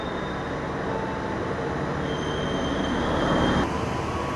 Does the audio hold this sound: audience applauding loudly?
no